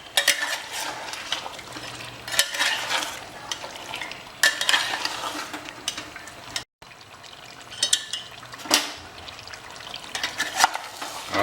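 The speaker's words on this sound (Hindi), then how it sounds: "अब इसे तेज़ आंच पे हम भुनेंगे।" Mutton korma masala frying on high flame while a spoon scrapes and stirs it in the pan, with irregular clanks and scrapes over a steady close sizzle.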